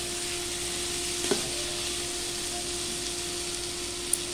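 Tomatoes fry in a pan with a continuous, even sizzle throughout, broken only by an occasional faint scrape.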